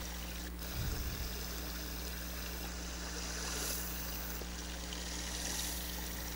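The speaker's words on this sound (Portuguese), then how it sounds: "Está correndo uma água aqui" Water running over stones along a rocky roadside spot, a steady broad rushing hiss, fairly loud and continuous, with a brief low rumble near the start and no talk.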